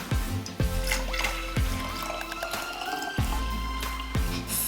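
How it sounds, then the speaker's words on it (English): Hot boiled water poured into a jar for a kids' calm jar, making steady liquid splashing with repeated low gurgling glugs over about five seconds, close by and with no talking. "Okay, so let's pour the water in."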